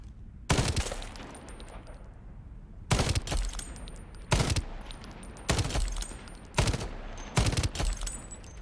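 A slow-firing gun in Shatterline lets off single shots spaced about a second apart, each a loud sharp bang with a short tail, in two loose groups with a quiet gap between them.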